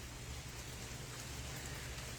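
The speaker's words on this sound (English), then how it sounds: "yes, Brenda, it is rain" Steady summer shower rain pattering on surfaces outdoors, a soft, even hiss of drops with a low rumble underneath, faint and continuous throughout.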